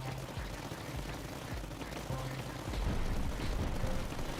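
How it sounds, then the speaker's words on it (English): Turrets in the strategy game Tower Dominion fire in repeated bursts of rapid gunfire. The shots stay fairly faint against a busy backdrop, with occasional heavier thuds. "These turrets on this building have done a hell of a lot of work."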